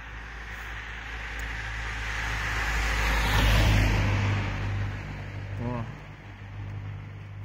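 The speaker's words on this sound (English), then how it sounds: "Because in front of me, there are cars" A car on the road swells from faint to loud as it passes nearby and fades away, over a steady low traffic hum, with a voice speaking over the noise.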